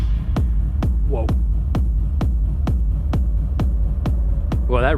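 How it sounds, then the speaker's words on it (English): Low, heavily reverberant rumble in a music track, struck in an even, steady pulse about twice per second, each thump trailing a washy decay. "first impression was there's too much reverb on the rumble"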